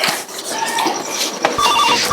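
An electronic phone ring chirps in short repeated bursts, steady and fairly close, against a light background hiss.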